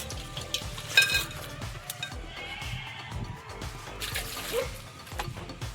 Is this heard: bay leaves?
yes